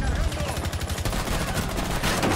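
Rapid bursts of gunfire in the video game Rainbow Six Siege crackle continuously, loud and close, with repeated shots overlapping in a dense barrage.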